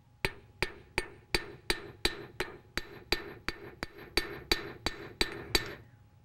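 A metalsmith's hammer strikes metal near the center of the piece in a steady run of about seventeen sharp, ringing blows, evenly spaced and close, with no voices.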